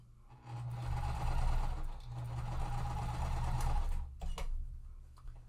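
Domestic sewing machine stitching a quilt seam in two steady bursts of fast, even whirring, close and clear, with a short pause and handling clicks near the end.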